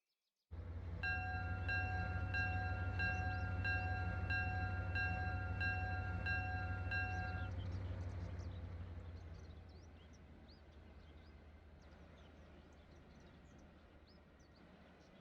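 A freight train with empty grain cars rolls past in the Immersive Railroading game, with a steady low rumble under a ringing crossing bell that fades out midway while the rumble eases.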